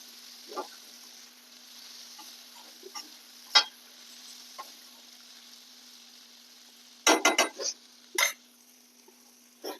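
An iron kadhai lid is lifted off a pan of green beans: a quiet kitchen hum, scattered light ticks, then a close cluster of sharp metallic clanks near the end.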